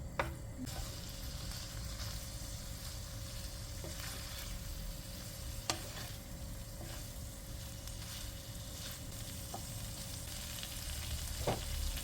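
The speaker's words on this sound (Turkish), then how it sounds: "Salçayla beraber de 1-2 dakika karıştırarak kavuralım." Meat and potatoes fry with tomato paste in a pan, a steady quiet sizzle running throughout with occasional soft scrapes and clicks of stirring nearby.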